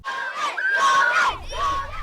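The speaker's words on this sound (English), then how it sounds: "Students at Ogden Elementary cheer for their favorites as classmates race solar-powered boats down a water-filled track." Schoolchildren at an elementary school cheer and shout for classmates racing small solar-powered boats down a water-filled track, a loud crowd of young voices in several swelling bursts with no clear speech.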